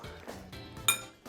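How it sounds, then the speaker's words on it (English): A fork presses and squashes herb butter in a bowl, making a few short scraping knocks and one bright metallic clink against the dish, close up. "I'm going to use a fork and squash it."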